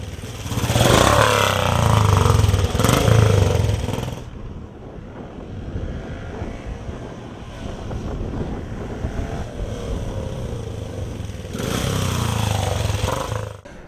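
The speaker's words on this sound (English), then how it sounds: "on his genuine ex-Brooklands Norton Jap" An ex-Brooklands Norton JAP motorcycle engine runs at Brooklands, roaring loud and close at the start, dropping to a steadier lower drone in the middle, then rising to a strong roar again near the end.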